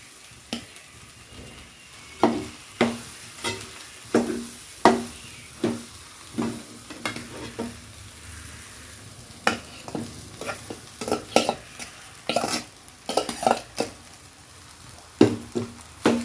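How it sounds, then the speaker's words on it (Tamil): A spoon stirs rice into fried egg masala in a pan with quick irregular scraping strokes over a soft, continuous sizzle, some strokes coming in fast clusters. "இந்த சாப்பாடு போட்டு கிண்டலாம்"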